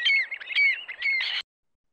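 Adult redshanks at a coastal nature reserve give distress calls, a quick series of sharp, shrill piping notes heard close and clear, which stop abruptly.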